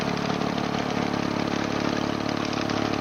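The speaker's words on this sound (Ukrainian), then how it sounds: "А це вже трактор Вольва." A Volvo tractor with a sickle-bar mower chugs at a steady idle, a constant close mechanical drone with no voices.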